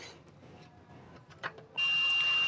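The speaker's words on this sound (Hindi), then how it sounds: "तो दूसरा वाला वायर भी हमारा सही बता रहा है, यानी बीप की आवाज़ आ रहा है" A multimeter on continuity test beeps while checking a mini UPS wire: after a second and a half of quiet handling noise, a steady, loud, high-pitched electronic tone starts and holds to the end.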